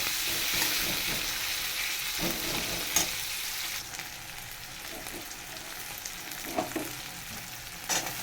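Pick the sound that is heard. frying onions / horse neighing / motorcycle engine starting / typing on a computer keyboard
frying onions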